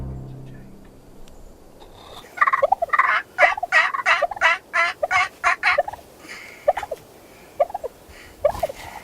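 Wild turkeys gobble in reply to a hunter's calls, a burst of about ten rapid loud gobbling pulses followed by a few shorter scattered gobbles, close and clear with no talking.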